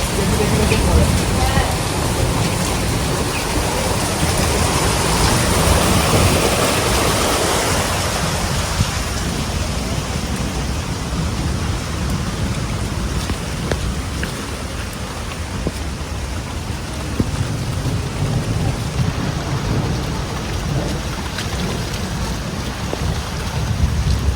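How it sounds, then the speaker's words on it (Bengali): Heavy rain falls during a storm, with floodwater rushing nearby. It makes a loud, continuous roar and patter close by, and voices talk over it now and then. "কি শান্তি লাগছে বলো বৃষ্টিটা দেখে"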